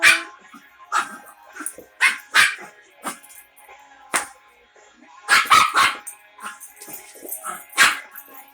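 Chug dog, a pug-Chihuahua mix, barks in sharp repeated bursts while playing indoors, yips and short barks coming in uneven clusters close to the mic with quiet gaps between.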